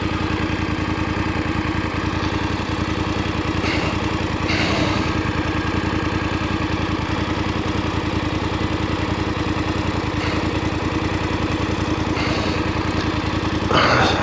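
A DSX 900 motorcycle idles in neutral, its engine producing a steady, close, loud rumbling chug with an even pulsing rhythm throughout, with occasional faint clicks and knocks from handling.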